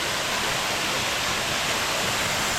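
Robin Falls roars close by as a dense, constant rush of pouring water that fills the whole clip without a break.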